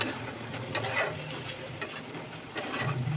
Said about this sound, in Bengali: মশলা থেকে যতক্ষণ না তেল ছাড়ছে ততক্ষণ মশলাটা কষাতে হবে।